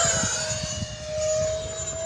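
An E-flite A-10 twin 64mm electric ducted-fan RC jet at full throttle, a loud steady whine with a sustained high tone rushing past close by.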